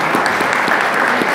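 Brief burst of dense clapping from an audience at a political leadership forum, loud and close, with no voices over it.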